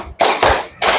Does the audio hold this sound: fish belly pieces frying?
no